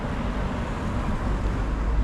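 Cars pass on a road in a steady low rumble of traffic, close and fairly loud, with no speech over it.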